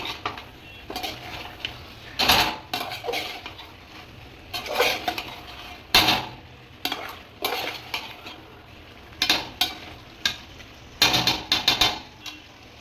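Chicken biryani masala is stirred in a cooking pot, with a ladle scraping and clattering against the metal in repeated loud, close bursts and short pauses between strokes. No one talks.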